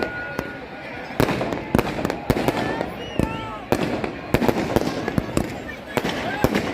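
Firecrackers burst one after another in sharp, irregular cracks, some near and loud, over a steady crowd murmur and a Hindi voice speaking, at a Dussehra fair in Kekri where Ravana's effigy burns.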